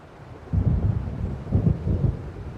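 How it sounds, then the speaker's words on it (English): Low rolling thunder from an approaching storm in the video game Alan Wake, two deep rumbling swells rising out of a quiet windy background, fairly close and heavy, with no voices. "It seems there's a storm coming."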